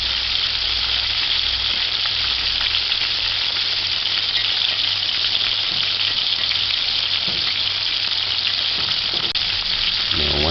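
Meatballs frying in a pan on medium heat give a loud, steady sizzle that runs unbroken throughout, with faint scraping from stirring near the end.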